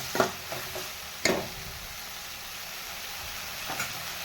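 Salted tomatoes sizzle softly in a pan while a spoon scrapes and stirs in a few sharp strokes, close and fairly quiet.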